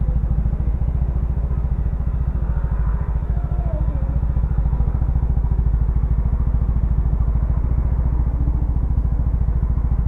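Motorcycle engine running again after a broken belt was repaired, a steady close idle with rapid even pulsing and light mechanical clatter, continuous for about ten seconds with no talking.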